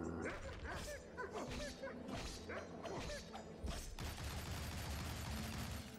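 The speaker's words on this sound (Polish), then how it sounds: "Złaź ze mnie, ty durny kundlu!" Dogs barking, yipping and snarling while attacking in the video game Shank, a rapid run of sharp barks mixed with scuffling and combat hits, then a denser burst of noise near the end.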